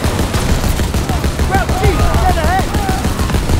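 A mounted machine gun in Call of Duty WWII fires rapid, sharp bursts close by, mixed with shouted voices and whistling battle noise.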